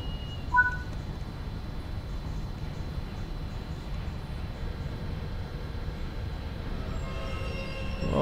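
A train pulls away in Train Sim World 4, heard as a steady low rumble of rolling stock, even and continuous at moderate loudness, with a faint brief tone near the start and no talking.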